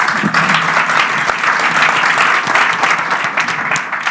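A business summit audience gives a panel a loud, sustained round of applause, with dense, steady clapping filling the room.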